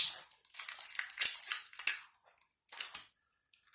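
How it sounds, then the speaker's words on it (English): Protective plastic film being peeled off a custom Schecter Synyster Gates guitar, a series of close crinkling, crackling tears in uneven bursts separated by short pauses. "We're peeling the plastic off."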